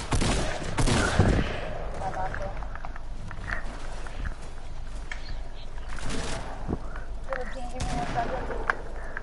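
Rapid bursts of gunfire from a shooter video game crackle through the whole stretch, with repeated volleys and shots overlapping voices talking.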